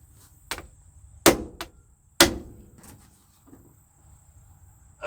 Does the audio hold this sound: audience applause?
no